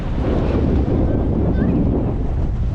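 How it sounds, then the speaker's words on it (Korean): High sea waves and strong wind at Üsküdar, Istanbul, form a loud, constant roar of surf and wind buffeting across the whole stretch. "파도도 좀 높습니다"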